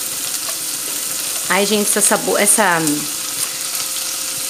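Carrot, garlic, leek and onion fry in a pan for farofa, a steady close sizzling hiss throughout, with someone briefly speaking over it in the middle.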